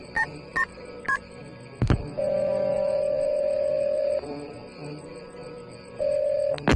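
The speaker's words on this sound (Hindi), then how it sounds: "अपने मोबाइल से किसी को फोन करने लग जाता है" A mobile phone dialing effect in a Hindi audiobook: three quick keypad beeps and a click, followed by long, steady electronic ringing tones, clear and alone.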